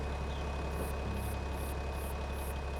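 A tractor engine in Farming Simulator 25 idles with a steady low rumble and drone, accompanied by a faint repeating high chirp, continuous and close throughout.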